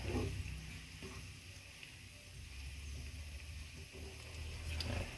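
Coconut cream cooking down into oil crackles and sizzles in a pan while being stirred continuously, a steady low frying bubble with faint scraping, heard close without talk.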